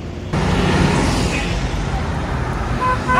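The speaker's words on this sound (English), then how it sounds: "very loud, a lot of traffic" Busy road traffic in Cairo roars continuously close by, a dense wash of engine and tire noise with faint horn tones near the end.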